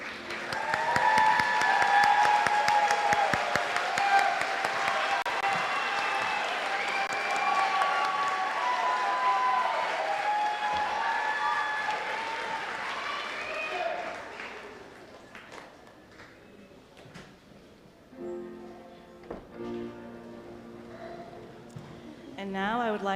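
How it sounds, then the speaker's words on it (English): An audience at an elementary school moving-up ceremony applauds in a long, dense round of clapping that fades out after about fifteen seconds, followed by a few scattered knocks and a brief musical tone. "I think we can give them another round of applause,"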